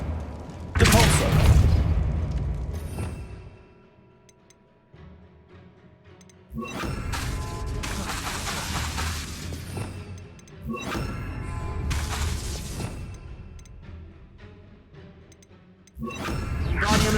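Spell blasts in Hogwarts Legacy on Xbox Series X: several heavy booming impacts with crashing, shattering tails, each followed by a quieter lull, repeating roughly every four to five seconds.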